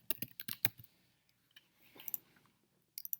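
Rapid bursts of computer keyboard typing click close by in a quiet room, a quick run of keystrokes, a pause with faint rustle, then a few more taps.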